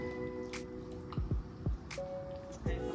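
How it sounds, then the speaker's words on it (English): Wet, squelching drips and soft plops as turkey chili ingredients with ground meat are mixed together in a crock pot, several distinct squishy strokes close up with no talking. "the next step is to go ahead and mix everything together in your crock pot, like so, like I'm doing."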